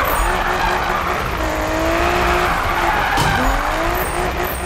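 A BMW M3 GTR drifting in the Need for Speed (2015) video game, its engine droning loud and steady while the tires squeal in long, wavering skids throughout.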